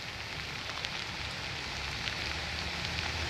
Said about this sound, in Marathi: पहाटेपासूनच मुंबईत जोरदार पाऊसमध्येच पावसाची संततधार सुरूच आहे